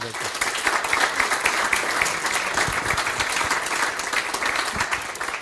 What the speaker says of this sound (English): So I would like to really ask for an applause also for Alro.